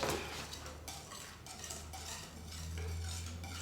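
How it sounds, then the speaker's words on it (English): Egg beater whisking a soap mixture in a bowl, a steady busy clatter and scraping of metal beaters running continuously and fairly close, without talk. "I'll whisk it with the egg beater"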